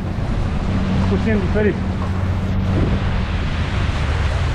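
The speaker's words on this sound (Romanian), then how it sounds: "că e vânt foarte puternic" Strong wind buffets a speedboat heading out of Male in the Maldives, a steady loud rushing roar over a low engine hum, with someone talking briefly over it.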